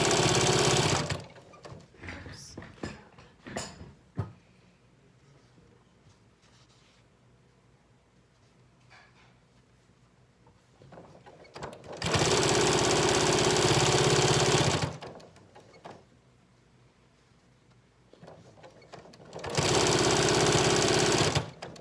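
Home sewing machine stitching a decorative stitch along the bottom of a Yup'ik qupak strip, two loud sustained whirring runs of about three seconds each, separated by quiet handling rustles and clicks.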